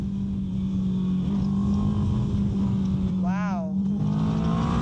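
A Moto Morini motorcycle engine drones at a steady idle with a low, constant hum, rising briefly as the throttle is blipped; a voice speaks over it.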